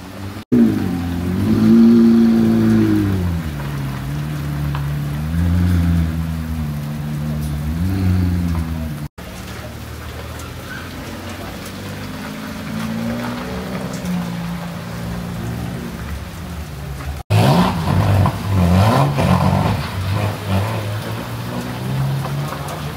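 A Ferrari Roma supercar pulls away and drives past in hurricane rain, its engine rising and falling in revving sweeps over a constant hiss of heavy rain, broken by sudden cuts.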